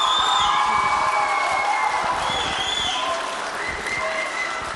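A studio audience at a televised dance competition applauds, a dense continuous clapping with cheers and shouts layered on top, loud and sustained throughout before tapering slightly at the end.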